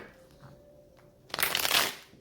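A deck of tarot cards is riffled in one quick, close burst of flapping and fluttering that follows a short quiet pause.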